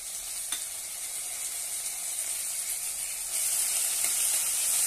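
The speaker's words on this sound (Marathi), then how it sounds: "आता यामध्ये एक टोमॅटो बारीक कट केलेला आहे तो घालूया।" Finely chopped tomato sautés in a pan for a methi bhindi vegetable dish, giving a steady bright hiss of sizzling that grows louder near the end, with a faint stir or two.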